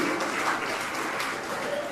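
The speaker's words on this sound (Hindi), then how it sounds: "और आप लोग एक बार जोरदार ताली बजा दीजिए" Audience applause at a Jain religious gathering with Praman Sagar Ji Maharaj, honouring a family called forward; a steady wash of many hands clapping, moderately distant and even, with faint voices mixed in.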